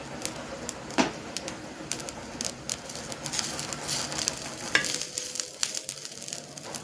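Garlic and masala paste sautéing in a pan: steady close sizzle and frying crackle with occasional scraping stirs, moderately quiet with no talk.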